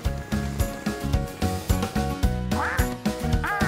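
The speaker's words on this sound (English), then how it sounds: "That's Dylan the duck." A cartoon duck quacks repeatedly in quick rhythmic bursts, loud and close, with nasal honking calls against a bouncy backing.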